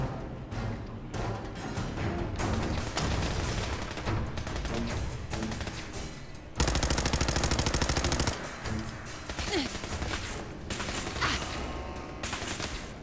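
Rapid automatic gunfire in Fallout 4, with dense bursts of shots filling most of the clip, one especially loud sustained volley in the middle, and scattered shots around it.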